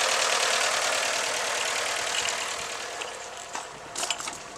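A VW Lupo 1.4 idles roughly with a misfire, a steady close engine drone with uneven shaking pulses and a few clatters near the end, with no talk over it.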